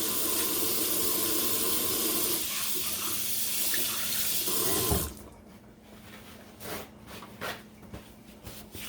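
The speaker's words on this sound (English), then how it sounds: "I know I washed my hands already, but I'm going to wash it again" Hands being washed under a running kitchen tap, a loud steady rush of water for about five seconds, then the flow stops and only faint drips and handling sounds remain.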